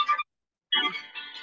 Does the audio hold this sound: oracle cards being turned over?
no